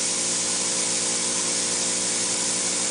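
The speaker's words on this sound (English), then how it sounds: "The type of a gun that he's using is actually a flex head pole gun, they refer to it as." A flex head pole spray gun applies hot pipe coating in a steady, continuous hiss of spray, loud and unbroken with no talking, like a constant high-pressure airless jet.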